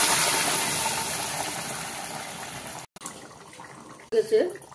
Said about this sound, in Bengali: এখন জল দিয়ে দেবে। গরম জল দিলে মাংসটা খুব ভালো হয়।